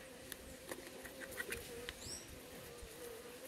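Jandaíra stingless bees emerging from a brood disc give a steady soft buzzing hum with faint close-up rustles and a few brief high chirps, no voices.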